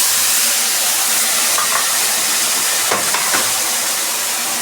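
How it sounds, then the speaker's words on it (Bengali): Ginger-garlic paste frying in oil with whole garam masala and dry red chillies makes a loud, constant hissing sizzle. Faint stirring scrapes come now and then, and there is no talking. "দেখে নাও রসুন বাটাটা দিয়ে ভালো করে ভেজে নিচ্ছি।"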